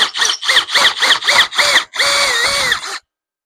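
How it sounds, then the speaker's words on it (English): A power tool deburrs a metal edge with a series of short, loud, whining bursts, about seven quick pulses followed by one longer steady run before it cuts off abruptly. "Go ahead and deburr that edge."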